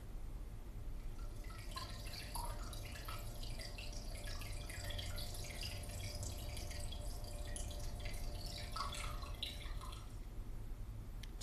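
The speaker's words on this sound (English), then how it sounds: "It's supposed to be a water fountain." A water fountain splashes and trickles in a steady, faint wash with scattered drips across the whole stretch, played alone without any voices.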